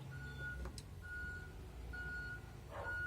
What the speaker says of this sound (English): there seems to be a very large school bus pulling up behind me